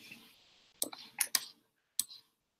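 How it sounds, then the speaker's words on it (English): A computer mouse clicks four times, three sharp clicks in quick succession followed by a single click after a short pause, close and crisp with near silence between them. "Clicking on members."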